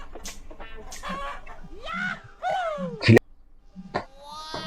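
Chickens cluck in a short series of squawking calls, fairly close, mixed with people talking nearby, and one sharp louder outburst partway through.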